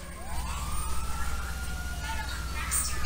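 Police sirens in GTA Online wail faintly in the background over a steady low rumble of game ambience, a rising and falling tone persisting throughout.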